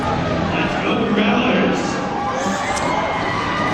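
Ice hockey crowd at a live game cheering and shouting during a fight, a loud continuous roar of many voices with commentary talking over it.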